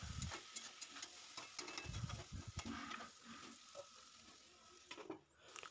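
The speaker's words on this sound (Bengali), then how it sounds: "এই দেখো ভালো করে ভেজে চালিয়ে নিচ্ছি" Ground spice paste fries and is stirred in a pan for a vegetarian drumstick-flower, potato, brinjal and carrot dish, giving a steady close sizzle broken by repeated scraping stirs, with no talk.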